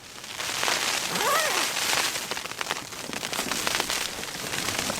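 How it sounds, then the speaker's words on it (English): Dense, continuous patter of ice pellets striking taut tent fabric, loud and close, with a rushing wind undertone throughout. "it's actually ice, not rain"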